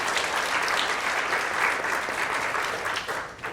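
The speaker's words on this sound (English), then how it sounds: "give yourselves a round of applause" A crowd at a student government gathering claps steadily for several seconds, dense and fairly loud, tapering slightly toward the end.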